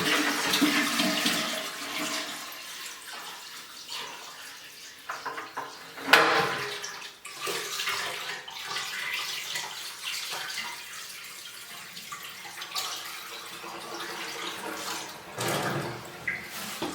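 A toilet tank being refilled by hand with water carried in, in a small barndominium bathroom without running water; steady pouring and splashing runs throughout, with a brief louder splash midway and another surge near the end, no talking.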